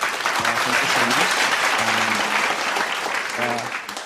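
Applause from a crowd at a morning devotion service, steady dense clapping that fills the whole stretch, with a voice speaking briefly over it.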